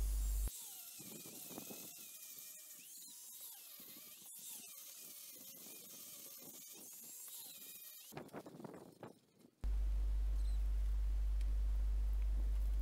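A steady, high-pitched abrasive whine of a grinder smoothing uneven spots on a concrete strip foundation for several seconds, then a louder, constant low hum takes over.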